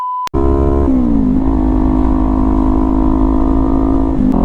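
A 2019 Kawasaki Ninja 400 motorcycle engine starts after a short tone, then revs and holds a steady, loud idle-to-mid drone close by, the pitch dipping and settling before rising again near the end.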